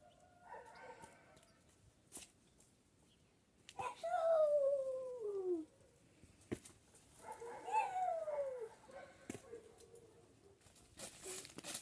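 A dog whimpers and whines in drawn-out, falling cries, quiet and somewhat distant, with faint rustling and scattered clicks in between.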